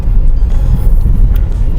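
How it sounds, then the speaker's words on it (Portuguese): Inside a Citroen C3 1.5 8v rolling over rough, worn asphalt, a loud low rumble of road and tire noise fills the cabin, fluctuating with the uneven surface and with no talking. "Vocês podem perceber aqui que o asfalto já não é muito legal. que é um carro que passa um pouquinho de ruído para dentro dele"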